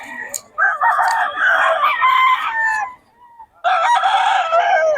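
A white kelso gamefowl stag crows loudly and close by, one long drawn-out crow followed after a short gap by the start of another.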